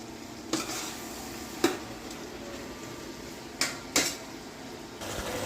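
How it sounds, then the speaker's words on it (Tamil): Onions frying in oil in a pan for a Jaffna-style cuttlefish curry, giving a steady soft sizzle with a few sharp clinks of a spoon stirring against the pot. "பாருங்க எண்ணெய் வத்தி பொரிய துவங்கிட்டுது"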